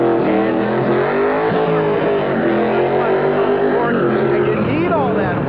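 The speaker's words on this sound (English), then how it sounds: "we're going to fire up about 400 horsepower coming out of Detroit" A roughly 400-horsepower Detroit engine in a Camaro-based drift car rumbles with a steady, loud low throb, heard under someone talking throughout.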